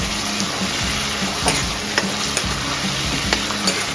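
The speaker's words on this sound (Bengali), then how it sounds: "আদা কাঁচা লঙ্কাটা ভাজা ভাজা হয়ে গেছে" Ginger and green chili paste sizzles steadily in a pan for Malai Alu Dum, with repeated scraping stirs of a spatula close up and no talking.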